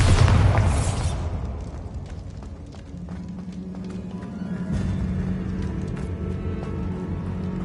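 A Bombarda explosion spell in Hogwarts Legacy goes off as a loud, close blast at the start, then decays into a rumbling, crackling tail with scattered debris pops and a low hum.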